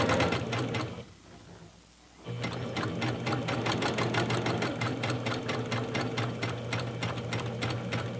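A sewing machine stitching an eased seam without pins runs in a steady, fast rhythmic whir, pausing briefly near the start, then continuing evenly close up with no talk.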